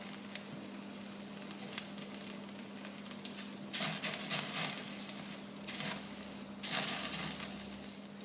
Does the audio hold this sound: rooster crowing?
no